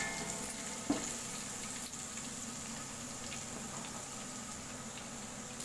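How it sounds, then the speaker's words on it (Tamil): Nutmeg powder and spices fry in oil for chicken leg dum biryani: a faint, even sizzle with one small clink near the start and no talking. "இது 1-2 நிமிஷம் பொரியணும்"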